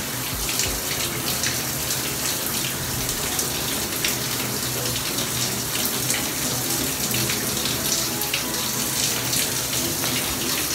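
Water runs steadily from a tap over a pair of wireless earbuds, a constant close splashing gush with no pauses.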